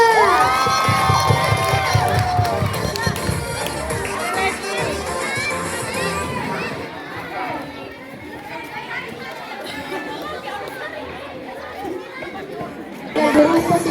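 A crowd at a school event cheers and claps, a busy wash of children's shouts and chatter that stays loud throughout and lifts briefly at the end, with voices mixed in.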